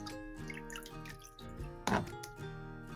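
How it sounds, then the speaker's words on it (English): Paint brush rinsed in water after watercolor cleaning, faint splashes and drips with one brief louder slosh, quiet and close over a soft background tone. "then rinse your brush"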